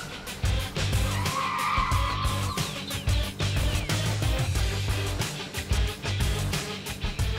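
A Tesla Model S Plaid accelerating hard in a race against a combustion car: a loud, sustained vehicle roar with tire squeal and a brief rising whine, close and continuous, with no talking.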